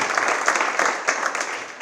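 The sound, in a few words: applause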